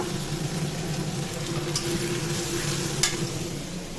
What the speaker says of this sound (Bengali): এখন এটাকে একটু কষিয়ে নেব, আলুটাকে একটু কষিয়ে নেব